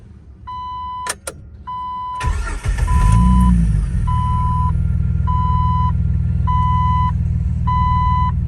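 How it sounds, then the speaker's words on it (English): A 2004 Jeep TJ Rubicon engine cranks and catches loudly, settling into a steady idle, with dashboard chimes beeping repeatedly before and after the start. "Go ahead and do a start up. Clutch in."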